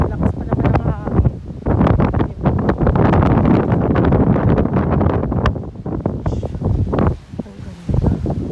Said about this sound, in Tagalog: Lakas pa naman ang hangin.